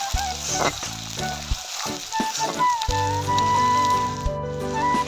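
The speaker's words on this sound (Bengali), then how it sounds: "তেলটা গরম হয়ে গেলে তার মধ্যে কুচনো পেঁয়াজ দিতে হবে" Chopped onions sizzle steadily in hot oil until browning, with occasional stirring scrapes and faint music underneath.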